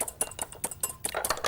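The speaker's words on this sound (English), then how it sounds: "Always crack your eggs separately." Eggs knocked and cracked against the rim of an already used mixing bowl, a few sharp close taps and clinks in quick succession, alone without talk.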